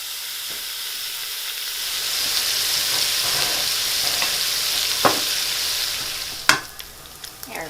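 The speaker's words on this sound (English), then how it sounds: "Adding the bacon." Bacon sizzles steadily as it fries in a pot for corn and crab chowder, a constant bright hiss broken by a few sharp crackles and pops near the end, with no talking.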